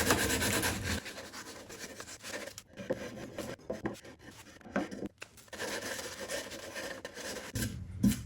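A hand file rasps back and forth along the edges and corners of a wooden butler's tray, a steady scraping rhythm of repeated strokes with brief pauses, close and fairly quiet.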